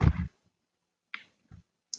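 Computer mouse clicks while selecting an option and confirming OK in a display settings dialog, a few sharp isolated clicks spaced apart in near silence, close and distinct.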